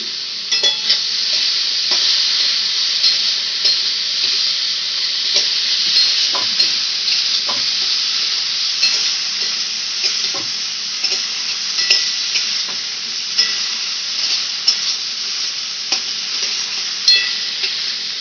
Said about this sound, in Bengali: নুন হলুদ দিয়ে চিংড়ি মাছগুলো ভেজে নিচ্ছে